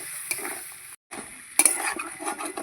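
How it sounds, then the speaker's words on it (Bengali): Spices sizzle and crackle in a hot pan with fish oil and potatoes while being stirred, with scraping strokes; a brief pause, then louder frying and stirring resumes close by. "এবার মশলাগুলো ভালো করে আমি কষিয়ে নেব"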